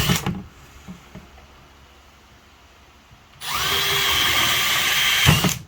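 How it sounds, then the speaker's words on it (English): A short whir of a power drill at the start, then quiet before a long, steady drilling run boring through the metal body of a van, close by. "we're going to drill a hole about every 4 inches"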